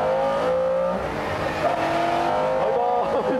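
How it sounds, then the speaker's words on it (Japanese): A Lotus Esprit accelerating hard on a circuit, its engine note climbing and shifting through gears under a steady roar, with faint tyre noise and other car sound mixed in at moderate loudness. "タクヤエスプリすんごい加速。"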